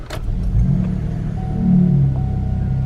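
A Chevy Equinox AWD engine cranks and catches, settling into a close, low idle rumble that swells slightly as it runs.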